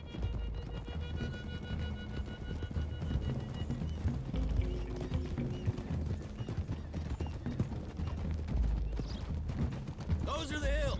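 Horse hooves clip-clop steadily across a trail in the video game Red Dead Redemption, an even rhythmic trot under music and ambient game sound, with voices speaking near the end.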